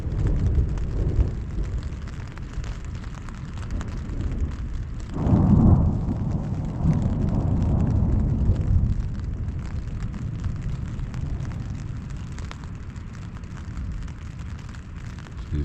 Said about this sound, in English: the thunderstorm rolled in